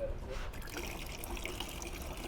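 Grey water drains steadily from a Jawa Sirocco caravan's tank at a dump point, a continuous rushing trickle with people talking over it.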